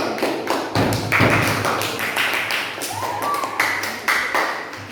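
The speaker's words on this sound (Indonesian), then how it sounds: "Tepuk tangan dulu." Students clap their hands in a classroom after a group presentation, a brisk run of sharp claps close by with a few thuds, fairly loud and uninterrupted.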